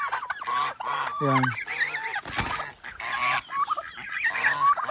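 Several geese honk loudly and repeatedly at close range, their harsh calls overlapping in a noisy flock, with a brief spoken word among them.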